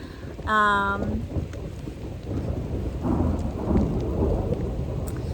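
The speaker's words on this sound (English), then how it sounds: "it's thundering" Thunder rumbles during a rainstorm on a mountain hike at low elevation below a pass, a low continuous roll with rain noise throughout, after a brief tonal sound near the start.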